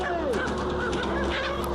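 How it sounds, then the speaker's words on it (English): Chickens squawk and cry out in a dense, distressed chorus over a steady mechanical roar as they are crushed to death, played back as a recording, loud and continuous without speech. "This is the crushing of the chickens to death."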